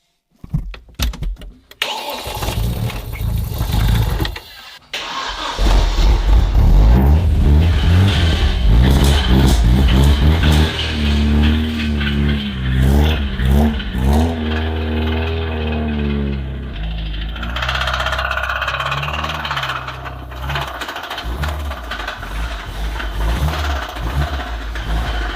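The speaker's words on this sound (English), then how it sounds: "our BMW's engine is completely finished. The crankshaft bearings are gone, the main bearings are gone" A damaged BMW drift car engine with failed crankshaft and main bearings cranks after a few short false starts, then catches and runs loud and rough, revving up and down with a harsh, uneven tone before settling to a ragged idle.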